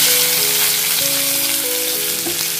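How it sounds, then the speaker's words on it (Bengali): Sliced onion hits hot oil with fish pieces for Bengali muri ghanto, giving a loud, steady, close sizzle and crackle throughout, with faint tonal hum layered underneath. "পেঁয়াজটা দিয়ে ফ্রাই করে নেব।"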